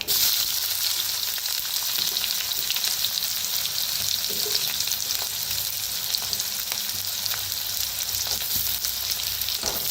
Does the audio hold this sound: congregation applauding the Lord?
no